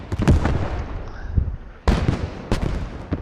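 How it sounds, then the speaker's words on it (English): Mortar shells exploding close by in the World War II game Post Scriptum: several sharp, heavy booms in quick succession, each leaving a brief rumbling tail. "Some mortars are coming in danger close."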